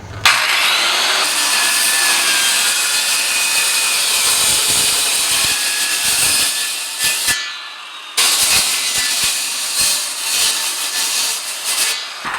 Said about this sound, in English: We're going to go ahead and trim this plate to clearance the battery.